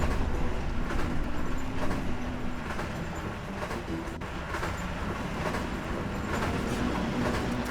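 In the Phineas and Ferb video game, a train runs with a steady rumbling roll and faint rhythmic clatter, a continuous mid-level rail noise without speech.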